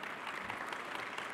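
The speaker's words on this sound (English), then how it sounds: "Let's give them all another round of applause" Applause from the audience at an agriculture plenary session, a soft, even wash of many hands clapping at a distance, faint and unbroken.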